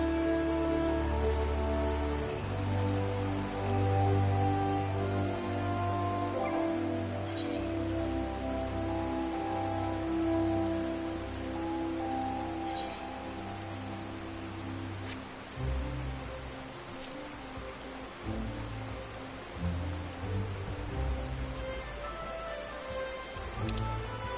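Steady rain falls in the Final Fantasy IV video game, a continuous hiss of drops under sustained low musical tones, with occasional brighter splashes and no talking.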